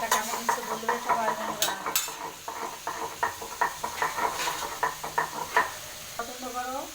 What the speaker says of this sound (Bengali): মশলাটা কষানো হোক, তারপরে মাছটা দিয়ে অল্প করে মশলাটা জল দিলাম